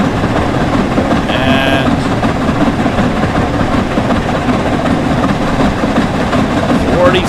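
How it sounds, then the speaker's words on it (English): The Flying Scotsman steam train runs at speed in the video game Train Sim World 4, with a continuous rolling rumble and rail clatter. A voice speaks briefly over it. "We're currently flying along with the Flying Scotsman."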